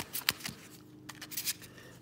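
Board game cards for Xia being shuffled by hand: a few short, crisp riffling and flicking bursts, close and fairly quiet, separated by brief pauses.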